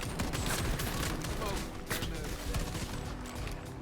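Rapid SMG bursts from a tier 2 submachine gun in a looter-shooter video game, loud and dense throughout, with a voice talking over the shooting.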